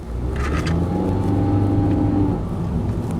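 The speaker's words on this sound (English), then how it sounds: "Let's do a quick acceleration." A 2019 Honda Fit EX accelerating hard, its engine a steady, loud drone that rises gently in pitch over a few seconds, heard close and alone.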